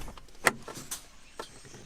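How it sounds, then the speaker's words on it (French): The door of a Renault Zoé electric car opens: a sharp latch click stands out, followed by a few softer mechanical clunks and rustles nearby, all fairly quiet. "il faut que tu ouvres la porte"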